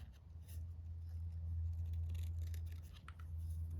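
Scissors trimming a paper butterfly wing, quiet close snipping and paper rustle over a low steady hum.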